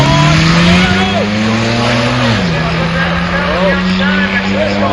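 Race cars roar off together at the start of an amateur race at Hudson Speedway, their engines droning loud and continuous with pitch sweeps as they accelerate, while an excited commentator talks over them.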